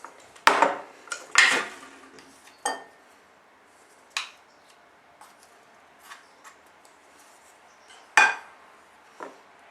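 A spoon scooping agave syrup from a container, a handful of sharp clinks and taps against the jar or bowl, spaced irregularly and close by in an otherwise quiet room.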